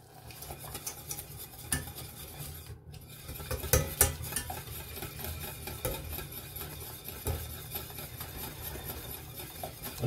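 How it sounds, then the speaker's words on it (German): Egg being stirred into tomato-onion sauce in a pan, with spoon scrapes and clinks against the pan over a low simmering sizzle, close up and without talk. "Rühren das ganze Ei einmal durch in der Soße"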